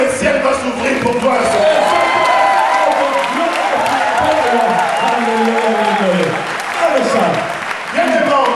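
A church congregation in Rotterdam applauds and cheers loudly during an evangelist's gathering, with sustained clapping, whoops and shouting voices filling the whole stretch without a break.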